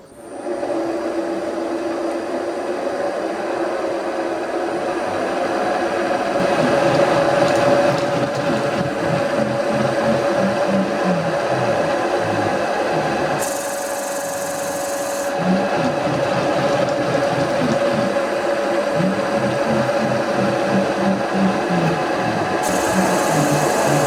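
A power drill bores steadily into the end grain of a wooden veranda hand rail post, a sustained whining grind with rhythmic chattering as the bit cuts, continuing without pause and with no talking.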